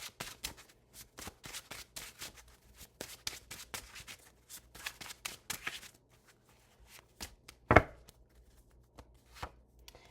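Tarot cards being shuffled by hand, a quiet, close series of rapid papery riffles and soft slaps in uneven bursts, with one sharper tap near the end.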